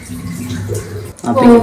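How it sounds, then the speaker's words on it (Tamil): Dried fish for a karuvadu kuzhambu being rinsed by hand in a basin of water, with sloshing and splashing, brief dripping, and a voice talking over the washing. "ஒரு 2-3-4 டைம்ஸ் தண்ணியில் வாஷ் பண்ணிட்டோம்."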